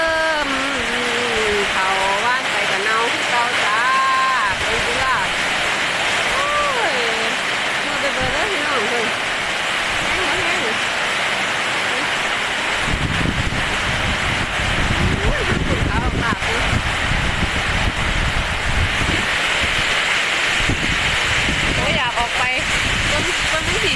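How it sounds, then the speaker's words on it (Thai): A steady roar of wind and rain during a storm over a freshly sown rice field fills the whole stretch, with someone talking over it through the first half. "มีทั้งลมทั้งฝน"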